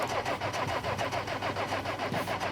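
A car in an auto repair shop is cranked, its starter churning in quick, even rhythmic pulses, loud and close, with no clear catch into a steady idle.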